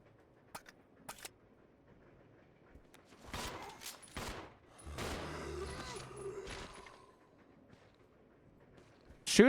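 Pistol shots in the video game Resident Evil 0 are quiet and sparse: a few isolated sharp cracks, then a longer cluster of gunfire and impacts, with faint voices in the background.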